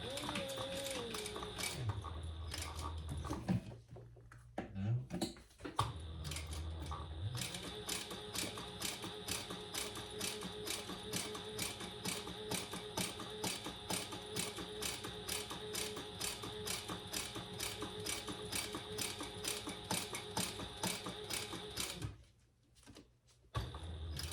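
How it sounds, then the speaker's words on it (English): Sewing machine stitching a small two-inch piece onto a mini wallet, running as a steady, close, rapid mechanical patter for most of the clip, with brief pauses and a motor whine at the start. "So now I'm just going to stitch that on there all the way around."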